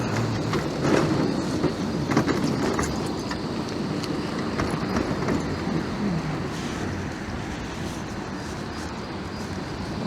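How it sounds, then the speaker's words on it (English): A tram rolls along rails through Blackpool town streets, a continuous rumbling roar with faint wheel clatter heard from close behind, steady throughout with no talk. "Just following this tram."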